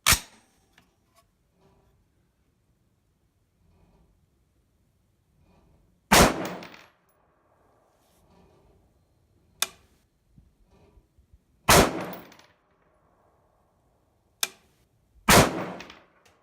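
Rifle shots fired from a bench while sighting in an optic at targets: six sharp, loud reports spaced irregularly over sixteen seconds, each with a short decaying echo, separated by near silence.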